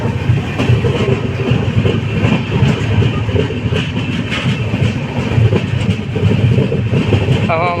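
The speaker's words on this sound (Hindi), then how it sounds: "तो हमारी ट्रेन अब पार करते हुए बारडोली रेलवे स्टेशन।" A passenger train rolls through Bardoli railway station on the Udhna to Jaynagar special run, a steady loud rumble with rhythmic clickety-clack of wheels over rail joints continuing throughout, heard from on board.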